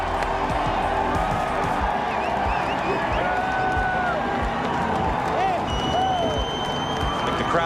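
A big crowd at a stock car race roars and cheers for the winner, a loud, continuous mix of clapping, shouts and whoops with whistles rising above, while a voice speaks over the din.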